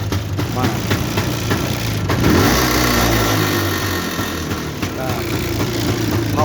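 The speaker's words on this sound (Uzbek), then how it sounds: "mototsiklni yondirib ko'rsatay sizlarga." A motorcycle engine is started up close, catches with a louder burst, then settles into a steady, throbbing idle, while someone talks briefly over it.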